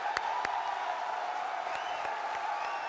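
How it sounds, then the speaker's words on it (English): A large arena crowd at the Atlanta final applauds steadily, the clapping a dense continuous wash with a few sharper claps and faint cheers standing out across the whole stretch. "This crowd at Atlanta has been cheering their hearts out."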